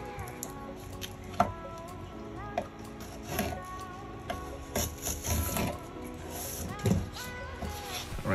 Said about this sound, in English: I don't like how large this one was cut, so I'm gonna cut it a little thinner.